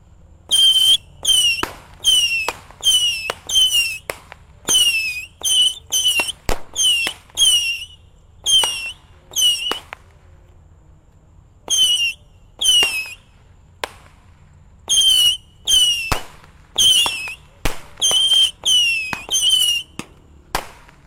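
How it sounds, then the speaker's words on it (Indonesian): A 25-shot missile firecracker set off outdoors during Ramadan, firing a long series of loud whistling shots in quick bursts of two to four, each ending in a sharp crack, with short gaps between volleys. "kita nyalakan di sini ada mercon misil 25 shot guys"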